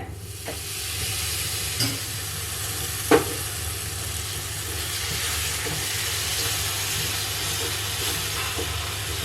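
Tomato ketchup goes into a hot pan on low flame and is stirred, giving a steady steam-like hiss and gentle sizzle with a couple of faint utensil knocks.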